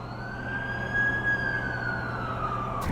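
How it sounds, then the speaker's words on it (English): An ambulance siren wails in The Amazing Spider-Man 2 video game, a steady, sweeping electronic tone over a low background hum, moderately loud and with no voices. "That's the ambulance I called."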